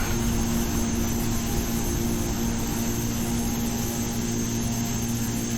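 A de Havilland DHC-6 Twin Otter applying reverse thrust in the GeoFS flight simulator game, a steady, dense engine roar with a constant whine that holds level throughout, with no voices.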